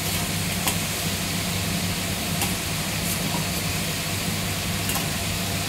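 Chicken fries in a pan with turmeric, chili, cumin and coriander powder, giving a steady close sizzle with a few sharp clicks of stirring, and no talking.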